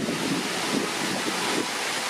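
Wind-driven waves churn across Gasper Lake in Wiltshire, a steady broadband wash of choppy water and gusting wind that rumbles close to the microphone without pause and with no voices.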